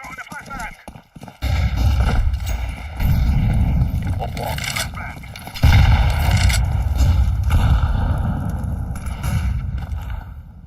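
Heavy booming impacts in a Counter-Strike 2 match, with a sharp flashbang grenade blast around the middle, loud and close amid ongoing gunfire and movement noise, with people talking over it.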